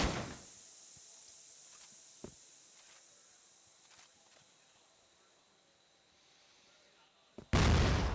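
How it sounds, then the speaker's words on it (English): A grenade blast in the shooter game CrossFire during an esports match, a sharp burst near the end after quiet stretches of faint game ambience and scattered small impacts. "Ooh, nice nade, landed right on snare."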